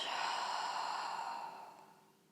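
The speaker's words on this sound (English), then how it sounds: "let's take a breath in and breath out" A slow, audible exhale during a yoga flow, a breathy whoosh that is strong at first and fades over about two seconds, close and alone with no talking.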